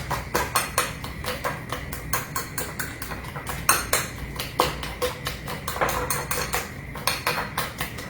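Ripe bananas mashed in a bowl for banana nut bread: a steady rhythm of quick, regular clinks and thuds of a utensil striking the bowl, close and continuous with no talking.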